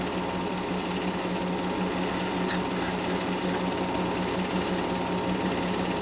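A race car on its victory lap at Vineland holds a steady, buzzing high-revving engine drone at an even pitch for the whole stretch, loud and continuous with no pauses.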